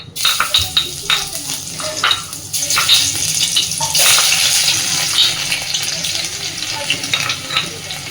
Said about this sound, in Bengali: এইবার আমি কড়াইতে সবার আগে দিয়ে দিচ্ছি বেশ খানিকটা রসুন, থেতো করে নিয়েছি সেই থেতো করা রসুনটা